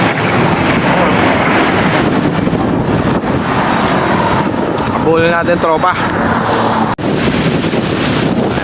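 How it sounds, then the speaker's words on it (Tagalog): Strong wind roars steadily across the microphone at sea near a boat, a loud continuous rush with a voice briefly speaking over it. "Lakas ng hangin."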